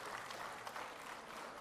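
Applause from an audience at a civil services aspirants' event fills the short stretch as dense, steady clapping at moderate distance, without a voice on top.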